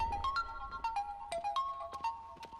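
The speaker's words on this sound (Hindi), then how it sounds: "किसी का फोन है।" A phone ringtone plays a bright, repeating electronic melody of short chiming notes, moderately loud and alone.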